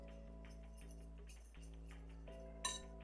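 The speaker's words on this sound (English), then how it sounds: "now we're going to whisk all of these ingredients together." Whisk stirring dry pumpkin pie ingredients, including sugar substitute and sea salt, in a bowl: quiet, irregular clinks and scrapes of the whisk against the bowl, with one sharper clink near the end over a soft steady background hum.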